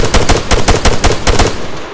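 Automatic gunfire in the video game Arma 3, a rifle fired without optics: a loud, close burst of about nine rapid shots in an even rhythm, ending with a short decaying tail.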